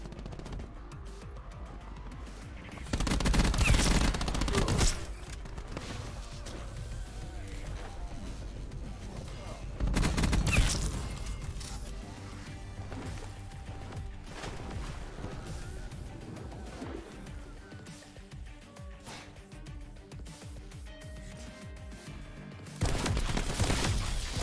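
Gunfire in the video game Call of Duty Black Ops 4, steady rattling shots throughout with three louder, heavier bursts standing out, mixed with game effects and someone talking.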